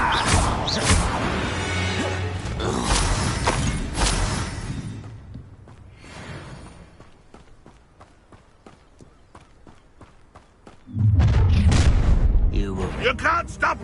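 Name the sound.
Confringo blasting curse explosion, video game Hogwarts Legacy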